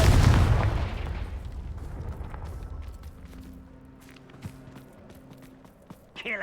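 Confringo blasting spell in Hogwarts Legacy, a loud explosive burst at the start that decays into a rumbling tail, followed by scattered footsteps and small clatters in a quieter scene.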